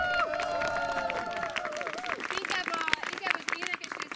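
Audience applause in a Hungarian venue, a dense wash of clapping from a crowd, steady and fairly loud through the whole stretch, with a few scattered cheers and voices mixed in.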